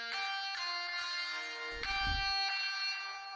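Electric guitar track run through an OTT multiband compression plugin, sounding bright and dense with sustained harmonic tones, a few note changes, and a brief low thump near the middle, with no talking.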